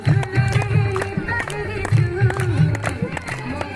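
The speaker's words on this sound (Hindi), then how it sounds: "बजाओ ताली बजाओ" Audience clapping at a school sports festival, a scattered crowd applause mixed with music and a loud public-address voice talking over it.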